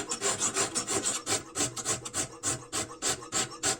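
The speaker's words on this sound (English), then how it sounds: "bevel filing" A metal file rasps back and forth in quick, rhythmic strokes along the bevel of a steel knife made from a saw blade, a harsh scraping repeated steadily and close, with no talking.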